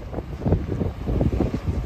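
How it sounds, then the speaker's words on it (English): Wind gusts buffet the microphone outdoors at Bahia Concepcion on the Baja coast, a loud, rumbling, uneven roar in short pulses with no voices. "it's windy, but look at this."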